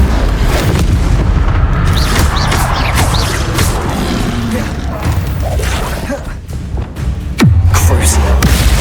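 Incendio fire spell cast in Hogwarts Legacy, a loud roaring burst of flame and booming impacts amid continuous game combat noise, ending in a sharp whoosh and low rumble.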